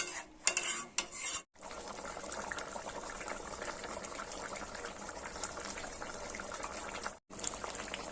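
Chicken being stirred in a pot just after water is poured in for a home-style chicken kosha: a steady wet churning with occasional utensil clinks against the pot, continuing for several seconds with brief pauses.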